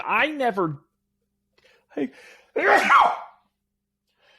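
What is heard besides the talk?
sneeze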